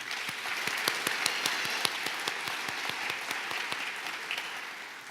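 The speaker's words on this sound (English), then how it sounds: "Please give them one more round of applause." A small audience at a heritage awards ceremony applauds with a steady run of distinct, fairly close hand claps, lasting about five seconds without talk.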